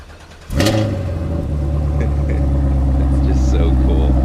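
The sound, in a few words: car engine starting by remote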